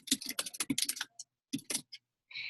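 A list title typed on a computer keyboard, quick close clicks in a rapid cluster, then a short pause and a few more scattered keystrokes in an otherwise quiet room.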